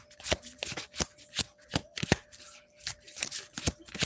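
Tarot cards shuffled by hand in a steady series of crisp riffling bursts, close and alone with no talk, carrying a faint constant tone underneath.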